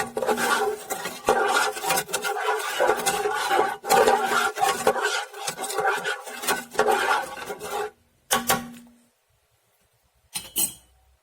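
Raisin cinnamon bread ingredients being mixed in a bowl, a busy run of scraping, clinking and rubbing for about eight seconds, then a short burst and near silence before a brief final scrape.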